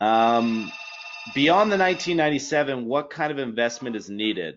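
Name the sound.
telephone ringing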